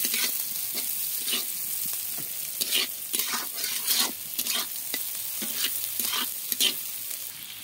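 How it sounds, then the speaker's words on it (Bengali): Vegetables for chowmein fry lightly in a pan, a bright continuous sizzle broken by repeated rhythmic clatters of a spatula stirring and tossing them, close and clear with no talking. "সবজিটাকে একটু হালকা ভেজে নেব।"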